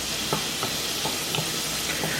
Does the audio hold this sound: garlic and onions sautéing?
yes